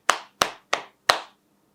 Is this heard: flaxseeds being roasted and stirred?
no